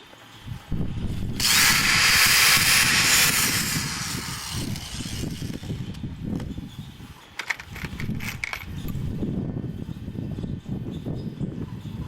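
An electric drill whirs loudly at home, a sustained high spin for a couple of seconds, followed by clattering handling noises and rumbling motor bursts.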